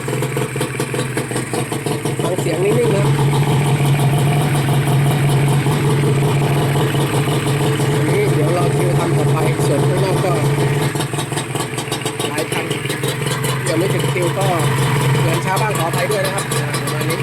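A Honda NSR150R motorcycle engine idles steadily just after its first start, a continuous mid-pitched rumble that holds at an even level throughout, with someone talking over it the whole time.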